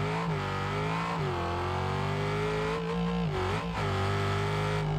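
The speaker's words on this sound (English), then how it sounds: "Let's go for a test drive and hear the 4-litre biturbo V8 engine" A Porsche's 4-litre biturbo V8 in BeamNG.drive revs and drones steadily, pitch rising and dipping between gear shifts, loud and close with no voices.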